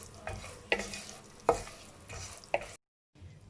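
Walnuts dry-roasting in a pan while a spoon stirs them, giving a few loud scraping, rattling strokes over a low hiss, close by, ending in a brief silence.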